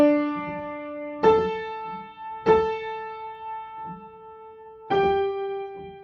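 Slow, broad piano melody from Percy Jackson and the Olympians, sustained notes ringing with three struck chords spaced a couple of seconds apart over soft lower accompaniment.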